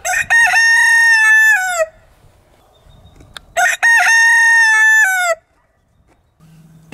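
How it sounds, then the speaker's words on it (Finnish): A rooster crows twice at a harbor-side park in the Rauma archipelago, each call loud, close and long, with a quiet gap between them and no talk. "Kukko on huomattu."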